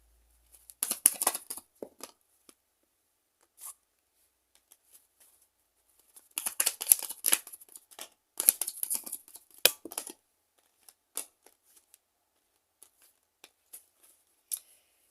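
Tarot cards handled and drawn in quiet bursts, crisp papery flicks and slides clustered near the start and in the middle, with scattered single snaps between long silent gaps.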